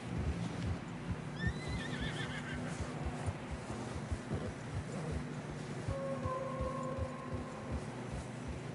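A horse whinnies in a high, wavering call, then neighs again later, over steady plodding hoof clops through snow and a low rumbling background, in the video game Red Dead Redemption 2.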